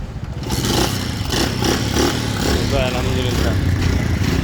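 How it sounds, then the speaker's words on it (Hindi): An old kick-start motorcycle engine has just fired up after several kicks and runs with a steady, loud, rough idle throughout. Voices are heard over the engine. "काफी किक्स मारने के बाद बिल आखिर बाइक स्टार्ट हो ही गई।"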